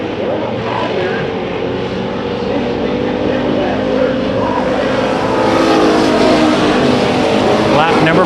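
Hobby stock race cars roar around the Bakersfield Speedway dirt track during a heat race, a continuous loud engine drone that swells slightly toward the end, with an announcer talking over it.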